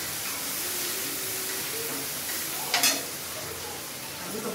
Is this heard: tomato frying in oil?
yes